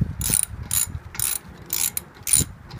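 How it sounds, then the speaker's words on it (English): Lug nuts being hand tightened on a 2012 Dodge Grand Caravan wheel during a brake job, giving four quick bursts of ratcheting clicks at a steady rhythm, close and clear with nobody talking. "you hand tighten it first so you don't strip your lugs"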